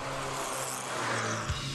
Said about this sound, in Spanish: un motor de altas revoluciones, liviano y sobre todo con un magnífico sonido